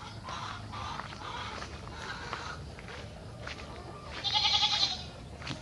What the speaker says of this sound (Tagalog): dahil dominance yan syempre, territorial yung mga kambing na yan, lalo sa mga inahin.